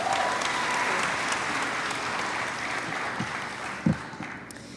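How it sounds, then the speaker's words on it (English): An audience applauds to welcome a speaker to the stage at a Title IX 50th anniversary celebration, sustained dense clapping from a large crowd that slowly tapers off. "Please give a round of applause and welcome Selena to the stage."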